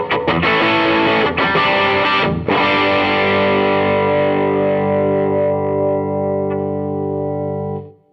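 Heavily overdriven Les Paul through an Analogman King of Tone pedal, bright and biting on the bridge pickup: a few quick strummed chords, then a long sustained ringing chord that fades out.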